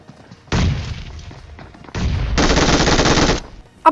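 Bursts of rapid gunfire in BGMI gameplay, two long loud volleys separated by a brief quieter pause, with a sharp shot at the very end.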